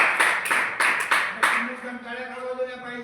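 An audience at a government function claps for Panditji: about five sharp, evenly spaced bursts of clapping, then the clapping stops and a voice continues speaking.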